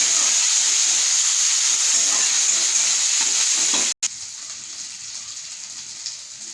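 Tomato, garlic paste and green chilli masala sizzle loudly with a steady hissing fry. There is a brief cut partway through, and after it the sizzle carries on softer with faint stirring.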